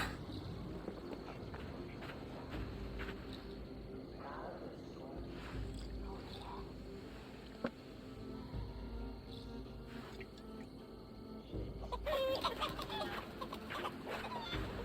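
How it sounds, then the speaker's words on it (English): Chickens cluck intermittently in Assassin's Creed Valhalla against a busy, continuous background of game ambience, with occasional footstep-like knocks and a brighter burst near the end. "They're just some chickens."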